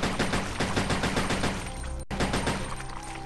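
Rapid gunfire from the video game Resident Evil Code Veronica X, a dense string of loud repeated shots that cuts off for an instant and then resumes at the same pace.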